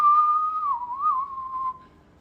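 A single steady whistled tone, held and gently wavering in pitch for about two seconds before cutting off, clear and close.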